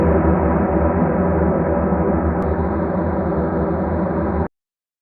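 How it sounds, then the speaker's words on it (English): An atmospheric pad built in Ableton from re-sampled reverb plays as a dense, steady, washy sustained tone that holds evenly for about four and a half seconds and then cuts off abruptly into silence. "how to make an atmospheric pad sound from a sampled reverb"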